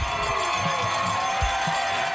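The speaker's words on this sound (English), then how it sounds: "Among those cheering in the crowd" Spectators cheering in the stands at a small-town Alabama high school football game, a steady crowd roar with scattered shouts and low thumps, heard from within the crowd.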